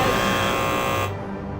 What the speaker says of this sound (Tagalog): Naabutan tayo ng timer.